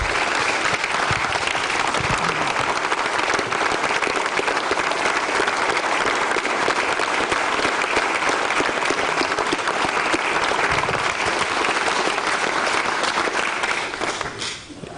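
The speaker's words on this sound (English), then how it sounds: "So I want to give them a round of applause" Sustained, dense round of applause from a large audience at a Lake-Sumter State TV event, steady and loud throughout before tapering off at the very end.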